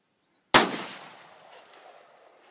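A single close, sharp report from a Smith and Wesson 386XL Hunter .357 Magnum revolver fired outdoors at a milk jug 50 yards away, followed by a fading echo tail of around two seconds.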